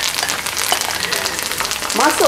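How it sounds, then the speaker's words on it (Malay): Ingredients for a Malay stir-fried crab dish crackle in hot oil in a home kitchen, a loud continuous sizzle with a brief voice breaking through at the end. "Tunggu minyak panas dulu. Okey, kita start menggoreng."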